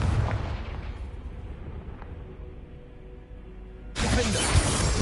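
A Confringo fire spell explodes in Hogwarts Legacy with a loud low boom and crackling blast that rumbles and fades, then a second sharp burst of fiery crackling hits near the end.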